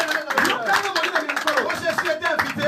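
A church congregation claps and cheers together in praise, a dense, steady wash of hand claps mixed with voices that stays loud and close throughout.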